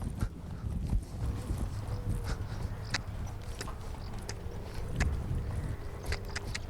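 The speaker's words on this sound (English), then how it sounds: "We'll start off at a trot and just make the circle smaller or as small as your horse can go." A horse trots in a shrinking circle during polocrosse training in the UK, its hooves clip-clopping in a steady rhythm at moderate distance, fairly quiet, with no talk.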